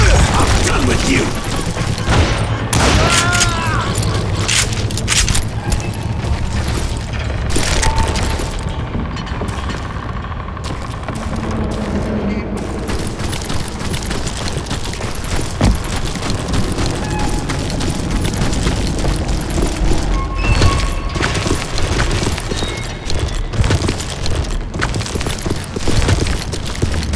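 Dynamite blasts and gunfire in the Western shooter Call of Juarez Gunslinger, a dense, loud stretch of booms, cracks and rattling mechanical clatter that runs throughout with a few bursts of voices mixed in.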